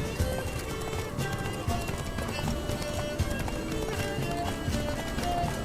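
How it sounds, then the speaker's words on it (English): Hoofbeats of a horse galloping steadily through The Witcher 3: Wild Hunt, a continuous rhythmic clip-clop that stays loud and close, layered over game music and ambience. "Run, Roach"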